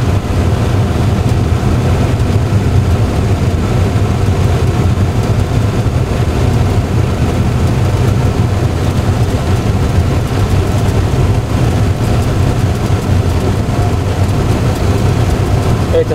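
Aircraft engines roar at takeoff thrust, heard from the cockpit as a loud, constant low rumble and hum that fills the whole stretch with no letup.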